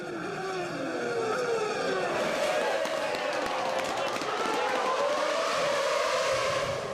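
Formula 1 cars race through the streets of Monaco in the 2006 season, their engines a continuous high-pitched whine with shifting pitch sweeps as cars pass. Commentary runs steadily over the engine noise.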